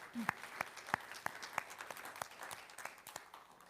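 Scattered hand claps ring out in a loose, steady rhythm, a small audience applauding for a few seconds.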